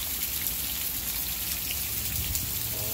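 Steady rain falls and patters on surfaces, a dense even hiss of drops close around without any voices.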